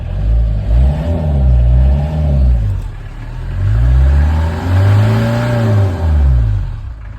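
A Citroen C25 van engine, not yet warmed up, runs steadily, its pitch rising and falling in repeated revs, loud and close with no voices.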